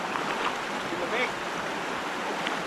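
A river flows beside a campsite spot, a steady close rush and babble of water, with faint voices mixed in.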